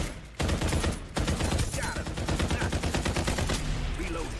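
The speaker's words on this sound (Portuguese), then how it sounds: "Estão atirando aqui atrás, na safe?" Loud, dense automatic gunfire in the shooter game Farlight 84 rattles in rapid continuous bursts, briefly cut off twice near the start before running on steadily.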